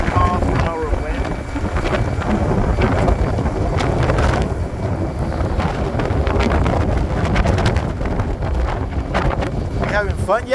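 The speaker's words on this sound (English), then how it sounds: "I think this is a 40 mile per hour wind." A strong wind of about 40 mph at a Texas oil field buffets the microphone with continuous loud roaring gusts, and a voice speaks briefly under the noise.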